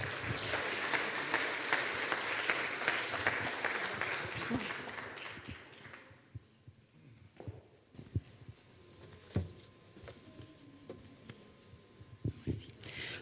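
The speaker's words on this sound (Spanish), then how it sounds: "Un fuerte aplauso para ella, por favor." An audience at an evening talk applauds someone speaker, dense steady clapping for several seconds that fades out, followed by a quiet room with scattered thumps and small handling noises.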